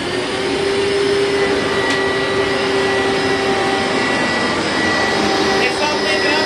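A vacuum cleaner runs steadily with a loud, continuous high whine and airy roar, close by and unbroken throughout.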